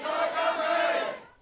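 Protesters in a Hong Kong shopping mall chanting "Free Hong Kong", one loud sustained crowd chant echoing through the indoor space and fading out at the end.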